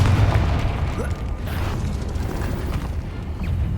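A Confringo blasting spell explosion in the Hogwarts Legacy video game: a dense, loud booming burst with deep rumble that rolls on continuously for several seconds, with crackling debris layered on top.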